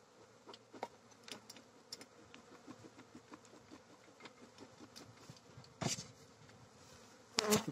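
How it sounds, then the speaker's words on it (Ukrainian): Honeybees buzz steadily inside an opened hive full of young bees and drones during a cold, drawn-out spring, a dense, close insect hum with scattered clicks and two louder bursts of handling noise near the end. "Виходить куча молодої бджоли."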